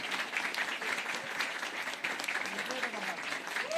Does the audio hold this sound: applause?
yes